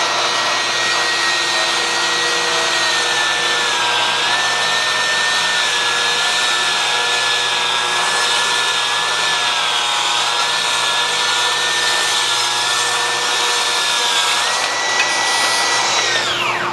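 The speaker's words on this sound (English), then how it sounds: "I'm gonna rip this, guys. I always check to see if I'm forward of that cut, and then I'm just gonna cycle it on." A Festool TS60 track saw with a thin 42-tooth blade rips through wood in one long, loud, steady whine with a high tonal ring that dips slightly under load, then spins down at the end.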